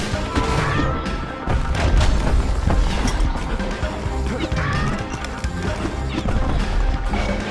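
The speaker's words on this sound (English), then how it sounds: "I don't like the reload time, but the shotgun effect is mighty nice." A shotgun fires in the action video game Bastion amid dense combat audio, with repeated heavy blasts, crashes and impacts layered over a busy game soundtrack.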